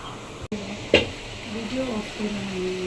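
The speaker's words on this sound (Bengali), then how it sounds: "রোস্ট ভাজা হয়েছে।" Roast meat with spices and yogurt marinade frying in a pan, a soft steady sizzle with a clatter of stirring, while voices talk over it.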